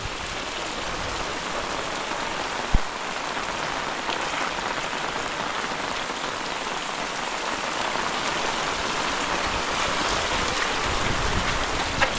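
Heavy rain falls in a Konkan village with water running off, a loud, unbroken wash of hiss and splashing that continues evenly throughout, with one sharp knock early on.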